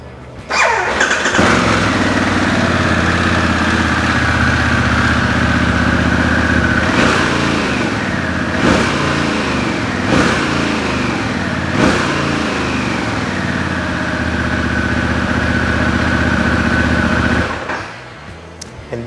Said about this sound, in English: I believe all of you are actually excited to listen to the sound of the rumble from the Pan America Special